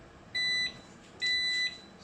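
Two high electronic beeps from a kitchen appliance signal that an egg for sandwich toast is done, each about a third of a second long, evenly spaced and clear over low background noise.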